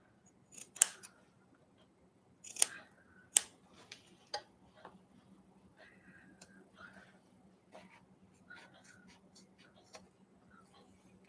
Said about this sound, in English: I'm going to go to that fat seam again, and I'm going to trim that out